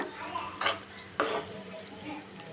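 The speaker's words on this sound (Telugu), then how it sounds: "మనకు సరిపడే వాటర్ అన్నీ బాగా కలిసేట్టు కలుపుకోవాలి" A spoon stirs ingredients and water together in a cooking pot, with two distinct scraping knocks against the pot over a soft background hiss, fairly quiet.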